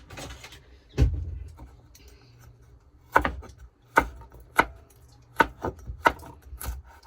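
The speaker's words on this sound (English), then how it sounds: "I found 2 of these kidney beans in my garden, so I just chopped them." Garden-grown kidney beans chopped with a knife on a board, with about eight sharp, close strikes at an irregular pace and quiet kitchen sounds between the cuts.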